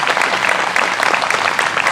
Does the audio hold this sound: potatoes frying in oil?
no